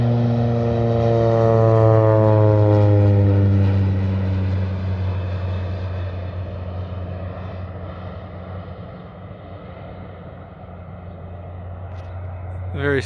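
A propeller fertilizer-spreading plane over Waikato farmland drones loudly and steadily overhead, its pitch sliding downward as it passes, then fading slightly as it heads in to land.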